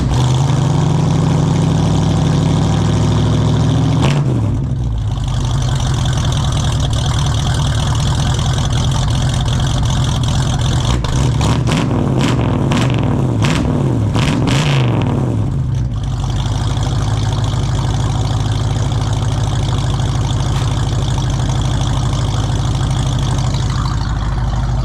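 A 1968 Ford Mustang V8 with its worn old exhaust runs loud and close, idling with a rough rumble, then revving in a burst of short blips before settling back to a steady idle.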